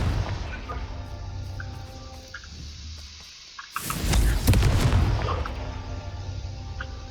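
Confringo fire spell blasts in Hogwarts Legacy, a muffled rumbling hum followed by a sudden loud burst that roars and crackles for about two seconds before settling back into a lower ambient drone.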